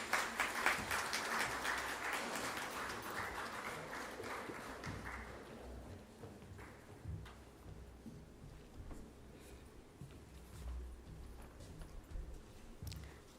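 Hall applause at a national workshop on hidden hunger and food fortification: a crowd claps steadily, fuller at first and then thinning into scattered, softer claps, distant and without speech.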